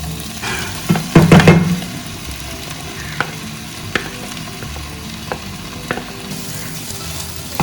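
A thick mashed potato masala stirred in a pan with a spoon over a slow flame, scraping and sizzling softly, with a cluster of louder knocks early on and light taps afterward.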